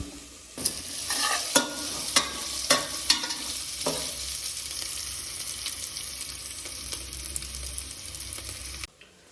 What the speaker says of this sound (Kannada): ಇವಾಗ ಇದು ಈರುಳ್ಳಿ ಆಲ್ಮೋಸ್ಟ್ ಸ್ವಲ್ಪ ಬ್ರೌನಿಷ್ ಕಲರ್ ಬಂತು ನೋಡಿ